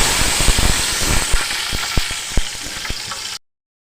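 Mustard seeds and curry leaves temper in hot oil, giving a dense, loud sizzle dotted with sharp popping crackles that go on steadily, then stop abruptly.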